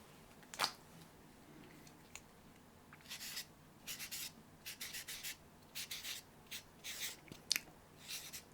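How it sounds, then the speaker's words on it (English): A marker squeaks and rubs across a board while drawing a green heart, with quiet close-up strokes in short bursts, some tapping at first and then a run of rhythmic scratchy strokes in a hushed room. "I'm gonna write you a green heart, because I miss writing my hearts on the board"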